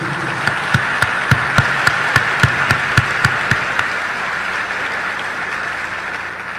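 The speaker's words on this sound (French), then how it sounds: "On encourage le monde de bien avec un gros applaudissement solidarité" A large crowd applauds together in solidarity, a dense, steady wash of clapping with a few sharp, evenly spaced louder claps standing out through the first few seconds and no voices.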